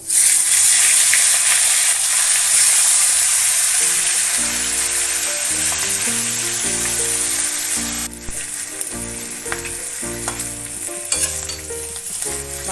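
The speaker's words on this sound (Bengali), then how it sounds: "সর্ষের তেল দিয়ে আমি মাছটা ভেজে নেবো আগে" A hilsa fish head fries in mustard oil in a wok, giving a loud, steady sizzle with intermittent scraping and clinking of a spatula stirring, and no voices.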